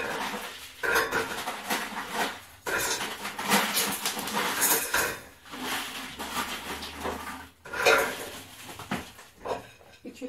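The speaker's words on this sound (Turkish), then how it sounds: "Böyle bir tencere kullanacağım. Çelik tencereyi tercih ediyorum." A steel soup pot is handled in a home kitchen, with clanks and knocks of metal cookware coming in close, irregular bursts separated by brief pauses.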